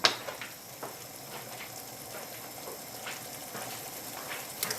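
Beef lasagne tomato sauce being stirred in a pan, a continuous close sizzle and bubble with a few light scraping stirs.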